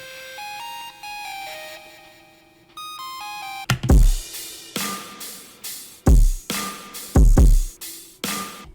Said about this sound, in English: the other thing that I have for the drop is this lead right here.